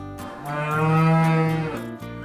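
Newly bought buffaloes brought home to a farmyard give a single long, loud, close moo that swells and fades over about two seconds, with no talking.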